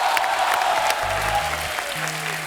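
Steady audience applause, a dense patter of many hands clapping throughout, with a low musical tone underneath.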